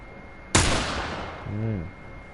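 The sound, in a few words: rifle gunshots in The Last of Us video game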